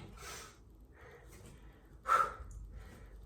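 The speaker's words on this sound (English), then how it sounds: "Yes, I'm breathing heavy." Heavy breathing during a fast leg workout circuit of side lunges: a few sharp, close gasping breaths and snorts spaced about a second apart, with one loud burst near the middle.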